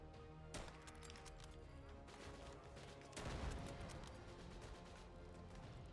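Sniper rifle fire in a video game comes as a few sharp, isolated blasts with brief crashing decay, set low and faint against a continuous game soundtrack.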